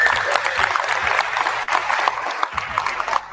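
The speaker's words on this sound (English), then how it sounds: "Give her a big round of applause." Big round of applause for Angel Reese, the number one player in the country, from a gathered crowd: dense, steady clapping that keeps going across the whole stretch, with a short dip partway through.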